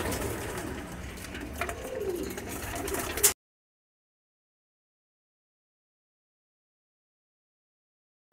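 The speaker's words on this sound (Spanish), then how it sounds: "Vamos a darle a ver qué tal se comportan las palomitas." Racing pigeons coo in a steady low murmur from nearby birds, a soft continuous warbling that cuts off abruptly a few seconds in, leaving silence.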